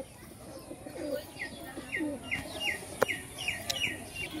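Pigeons from a large loft flock coo repeatedly in soft, rhythmic calls with a few chirps, moderately near, over a faint background rustle.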